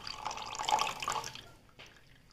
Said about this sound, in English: Now we have to add water.